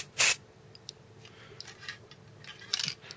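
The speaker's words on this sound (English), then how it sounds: "all your spray paint, guys." Aerosol spray paint undercoat on miniatures: a short burst of hiss at the start, then quiet handling clicks and rustles, and a second brief spray burst near the end.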